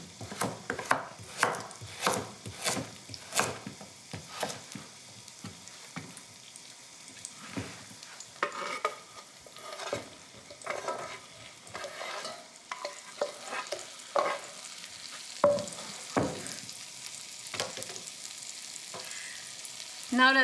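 Onion and thick-cut carrot fry in a pan while being stirred for a cheesy lasagna: a steady sizzle runs throughout, punctuated by frequent scraping and clacking strokes of the utensil against the pan, close and fairly loud.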